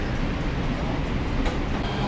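A Metro train at the LAX/Metro Transit Center station gives off a loud, dense rumble with a steady low-end roar and a faint clatter, continuous and close, with no voices.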